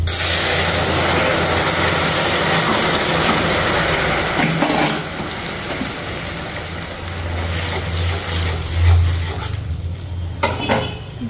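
Hot oil in a pan takes a tempering after frying garlic, a loud, dense sizzle that rushes at first and then settles, with clinks and scrapes of a utensil stirring against the pan.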